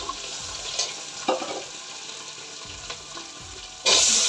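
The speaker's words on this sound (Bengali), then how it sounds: "এদিকে হচ্ছে শুটকি মাছগুলো ওকে ভেজে নিলাম," Dried fish (shutki) fries lightly in a pan with a steady, close sizzle, broken by occasional scraping stirs, and the sizzle grows suddenly louder near the end.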